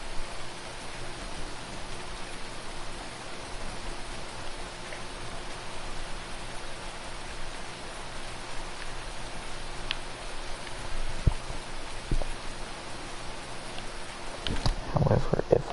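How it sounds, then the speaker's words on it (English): Steady in-game rain from Farming Simulator, an even wash of soft broadband hiss that runs the whole time, with a few scattered clicks and a brief louder burst near the end. "until it's not raining in game"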